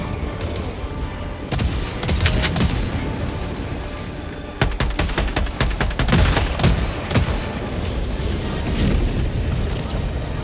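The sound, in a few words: grenade explosions and gunfire in video game Helldivers 2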